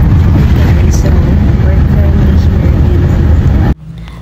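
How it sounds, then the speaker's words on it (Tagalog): Inside a moving bus in Butuan City early in the morning, loud continuous engine and road rumble dominates until it drops abruptly near the end. "hindi nyo pala maririnig kasi maingay yung bus"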